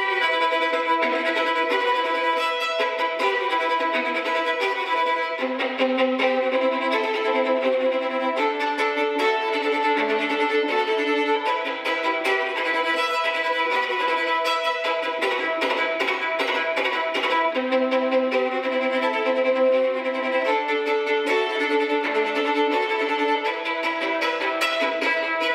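A bowed violin melody plays continuously over a steady hip-hop beat, loud and close, with sustained notes and ornamented runs throughout.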